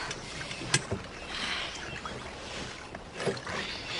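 Oars dip and splash as a small boat is rowed across water, with a couple of sharper strokes standing out over a steady watery wash and light wind.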